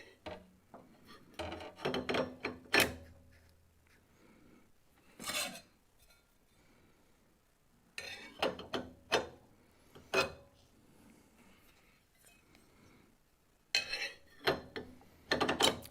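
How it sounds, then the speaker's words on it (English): Metallic clinks and scraping as dado stack blades and the cover plate are fitted onto a table saw arbor, bursts of clattering separated by quiet gaps, close by with no talk. "Some people like to see dado stacks going in."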